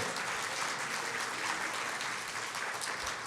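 A church congregation claps for Jesus Christ in a steady wash of many hands, sustained and even throughout at a moderate, slightly distant level.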